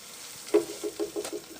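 A spoon stirs a butter and flour paste in a pan, giving a few soft, close scraping strokes with a faint sizzle, quiet and alone.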